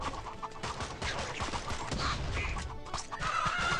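Chickens cluck in the Swamp Attack 2 mobile game, with short bursty squawks scattered among busy game effects and shots, all fairly loud and close.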